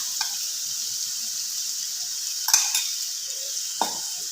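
Tomato, curry leaves, ginger and garlic sauté in a pan for biryani masala, with a steady close sizzle and a few short stirring scrapes and clinks.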